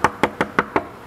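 Five sharp, evenly spaced knocks on a door, loud and close, with no voices.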